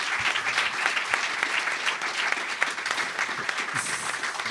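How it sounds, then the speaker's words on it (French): A lecture audience applauds three speakers with steady, vigorous clapping that holds at a consistent level throughout. "Je voudrais qu'on applaudisse très fort nos trois intervenants."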